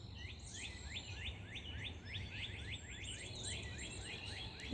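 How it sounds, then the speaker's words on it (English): Repeated bird song outdoors, a run of quick descending chirps and trills at moderate distance over a steady low background rumble. "You can definitely hear the birds."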